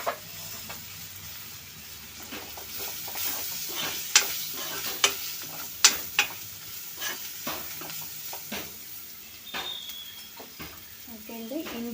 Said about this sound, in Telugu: కడిగి పెట్టుకున్న కరివేపాకు వేసుకుందాం ఇందులో.